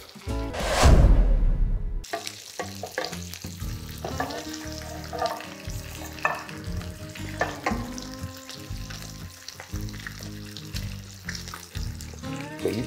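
Banana pancake batter cooks in a pan. A loud rush of sizzle opens it, then settles into a steady, close frying crackle with light clinks over the rest.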